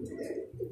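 Pigeons coo softly in a short, low, throaty burst, heard alone at moderate distance.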